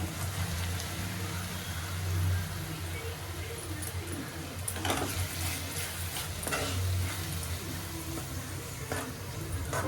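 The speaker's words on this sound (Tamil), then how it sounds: "தக்காளி நல்லா வதங்கட்டும்" Tomatoes sauté in a pan with softened onions and ginger-garlic paste for a squid gravy, giving a steady low sizzle with occasional clicks of stirring, close and quiet throughout.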